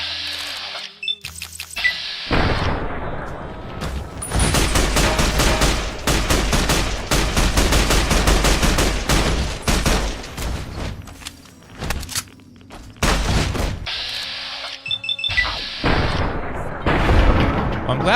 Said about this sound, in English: We have emptied like all of our clips on these dudes.